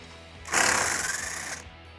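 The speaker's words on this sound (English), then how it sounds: "we'll use our 10mm to remove the 3 bolts holding the cooler in" A single one-second burst of rapid ratcheting from a 10mm wrench on a Jeep Wrangler's transmission cooler bolts, close up with a dull metallic buzz.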